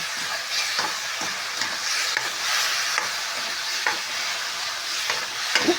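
Chinese kale and pork stir-fry in a hot pan, with a continuous loud sizzle broken by regular scraping and tossing strokes of a spatula against the metal.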